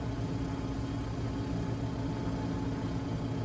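A small pusher-prop aircraft, the Edgley EA7 Optica in Flight Simulator 2020, keeps its engine running steadily, a dense continuous drone filling the whole stretch with no talk.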